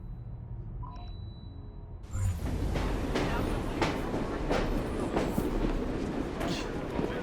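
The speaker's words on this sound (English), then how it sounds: "I thought maybe I could catch the train because it's headed south" A train in the video game Assassin's Creed Syndicate rushes past after a quiet start, its loud rumble and rhythmic clatter of wheels suddenly filling the scene and continuing steadily.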